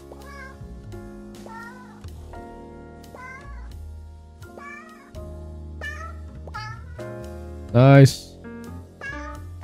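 Cat meows from a video game, repeated short rising calls spaced through the clip over game music, with one louder, longer meow near the end and a person speaking briefly.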